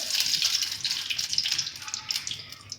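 Coconut oil pouring into herbal juice in a cooking pot, a continuous splashing gush of liquid with small irregular bubbling spikes, close and fairly loud.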